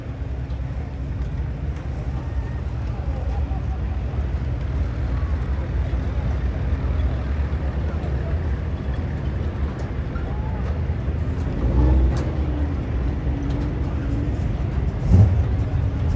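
A 360 sprint car rolls slowly downhill at Placerville Speedway, its engine a low, steady idling rumble under a constant wash of crowd and track ambience, with a brief swell near the end.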